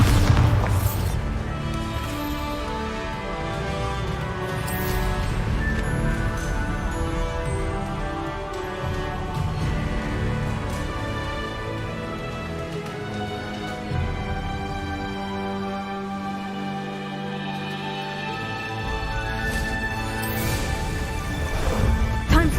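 A Bombarda blasting spell detonates in Hogwarts Legacy, a loud, dense booming explosion that rumbles continuously with crashing debris layered over game music throughout.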